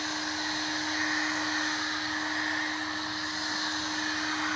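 A hair dryer blows steadily and loudly on the final coat of a homemade claybord panel, a constant close whirring hum with no talk.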